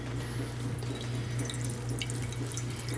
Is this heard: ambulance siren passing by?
no